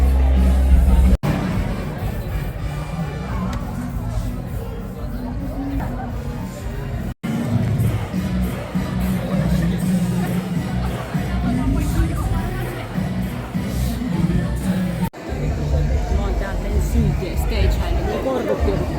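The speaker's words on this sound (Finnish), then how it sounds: "yleisö jo on bailannut täällä hyvän tovin" Festival crowd partying near the stage at Hellocon 2025, a steady loud roar of chatter and crowd noise that fills the whole stretch, with a few brief dropouts.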